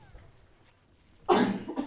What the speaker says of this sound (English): I just have to cough now.